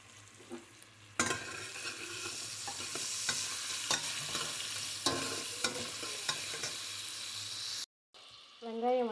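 Onion, coriander and curry leaves sautéed with salt in a pan after frying urad dal, a continuous sizzle with intermittent spatula scrapes, ending abruptly with a brief bit of other sound.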